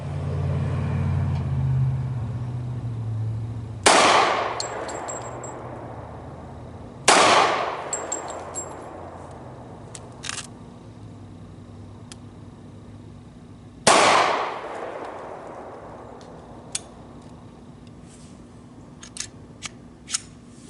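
A Kahr .45 pistol fires at steel targets outdoors: three loud, sharp shots spaced several seconds apart, each followed by a bright metallic ring that fades out, with no talking.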